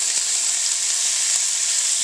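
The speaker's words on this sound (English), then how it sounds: "If you don't hear the sizzle, man, it ain't cooking." Continuous loud sizzling and crackling of ground beef frying in a hot pan, steady and close, with a faint scrape or two.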